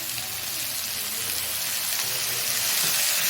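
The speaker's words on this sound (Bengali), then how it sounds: "দিয়ে ভালো করে কষিয়ে নেব" Spices, ground cumin and ginger paste fry in a pan with a steady, close, continuous sizzle that swells slightly toward the end, with no talking.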